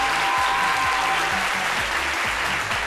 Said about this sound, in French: Vous pouvez vous applaudir, fidèle public de notre émission.